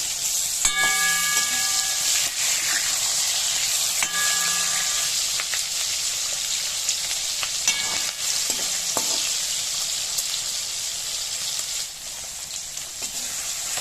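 Fish frying in hot mustard oil in a pan, a steady loud sizzle throughout with a few scraping and clinking touches of a utensil against the pan.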